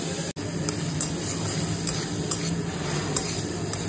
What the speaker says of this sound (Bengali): পেঁয়াজটা দিয়ে দিয়েছি। এবার ভাজবো